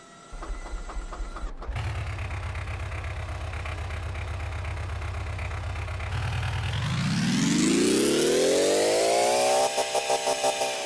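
A piston-powered combustion engine built in a video game runs loud and steady, a low chugging drone that climbs into a rising rev toward the end, then breaks into a quick pulsing stutter.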